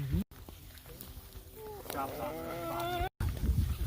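A chicken on a Loudoun County produce farm clucks in a short rising, wavering run of calls near the middle, close by, amid outdoor noise and someone speaking.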